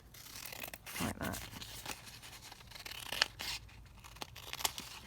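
Scissors snip paper for a file folder craft in a few quick close cuts with some rustling, and a voice briefly speaks.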